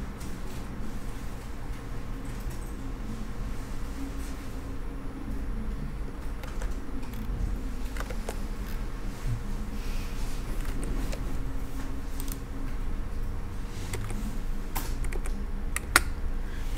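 Keys tap on a computer keyboard as numbers are entered for line lengths in a 3D modeling program, a sparse scatter of soft clicks over a steady low hum, no voices.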